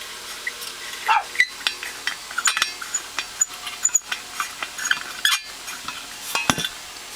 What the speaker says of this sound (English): That noise right there, putting that Bakelite canteen on there